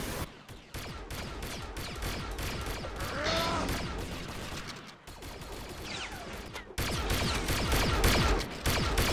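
Rapid bursts of gunfire from the video game Bear Force 2 crackle in fast irregular volleys, moderately loud and dense, with a few other mechanical game noises mixed in and the firing growing fuller toward the end.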